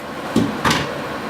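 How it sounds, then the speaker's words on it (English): A frameless glass shower door is swung open during installation, giving a brief soft clunk followed by a second faint knock against a steady background hiss. "go ahead and open the door out of the way"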